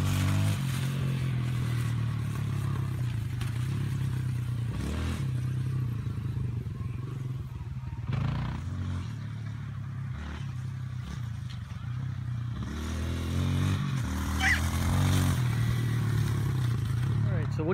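A Kawasaki KLX-140 dirt bike rides around a field, its mid-pitched engine droning steadily at a distance with occasional revs, while people talk over it for most of the stretch.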